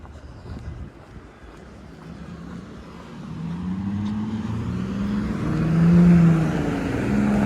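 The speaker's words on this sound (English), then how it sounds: "Well, except for the freaking cars and traffic." Car traffic on King Street in Oshawa, Ontario, with a vehicle approaching and passing close by, its rumbling engine swelling louder toward the end over wind noise on the microphone.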